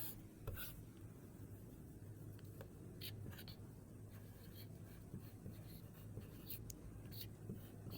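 Pen or chalk writing by hand during a Hindi grammar lesson, faint scratchy strokes in irregular short bursts over a low steady background hum.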